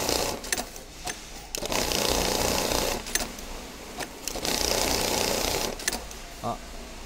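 A Jack 1906 programmable industrial sewing machine runs after adjustment for skipped starting stitches, giving a busy mechanical whir with sharp clicks and thumps, with a person talking over it.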